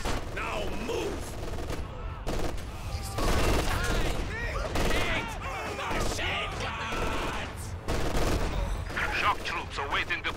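Dense machine gun fire and rifle shots rattle without a break in the Company of Heroes 2 battle, loud bursts layered with explosions and clatter, while voices shout over the din.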